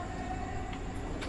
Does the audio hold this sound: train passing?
yes